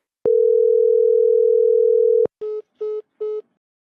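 Telephone call tones: a long, steady, loud tone lasting about two seconds, followed by three short, evenly spaced beeps, then silence.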